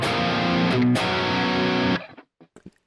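A distorted electric guitar rings out a heavy chord riff for about two seconds, then is muted, leaving a few faint string clicks.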